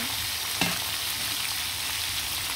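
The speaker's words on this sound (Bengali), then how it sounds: "সবগুলো মুরগির মাংস আমি ভেজে নেব।" Pieces of chicken meat fry in a pan with a steady, even sizzle, holding at a constant level for the whole stretch, with one brief clink or stir partway through. No voices are heard.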